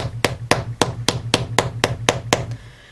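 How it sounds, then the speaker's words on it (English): A hammer strikes a metal bangle bracelet resting on a sandbag, giving nine quick, evenly spaced dull taps at close range with no talking. "you can place this on your sandbag and hammer it some more"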